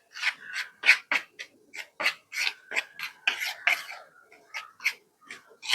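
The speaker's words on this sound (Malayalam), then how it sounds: "കുറച്ച് ഉപ്പും കൂടി ഇട്ട് കൊടുത്തിട്ട് ഒന്ന് മിക്സ് ചെയ്തെടുക്കുക." Rice flour, chili powder and salt being mixed by hand in a bowl, a string of short, dry scraping and rubbing strokes in uneven rhythm, close and moderately loud with no voices.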